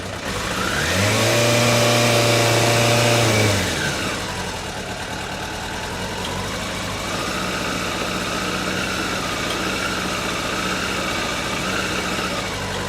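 A small engine fires up with the choke on, running loud and rough for a few seconds before settling into a steadier, quieter idle with a wavering pitch, heard close and without talk.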